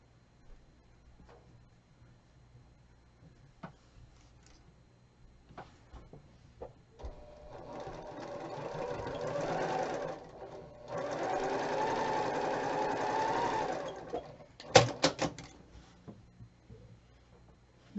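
Sewing machine stitching a quilt seam in a fabric studio, a steady running whir of about six seconds that pauses briefly and resumes for several more, with light handling clicks before and a few sharp taps after.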